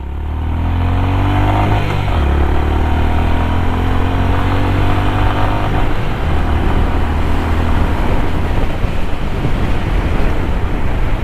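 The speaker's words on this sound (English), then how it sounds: "So now let's check the acceleration of this motorcycle." A Honda CB 350 RS motorcycle accelerating hard, its engine note climbing steadily with a brief drop around a gear change, loud and close throughout with wind rush.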